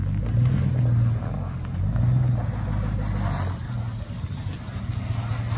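A GM pickup truck in auto 4x4 pulls away with a loud, close engine rumble that swells and eases over a few seconds, with wind-like noise over the low drone.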